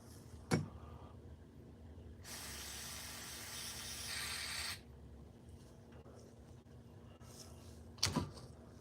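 A continuous hissing spray into a throttle body lasts a couple of seconds in a quiet space, with single knocks before and after it.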